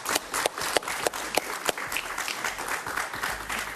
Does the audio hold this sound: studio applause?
yes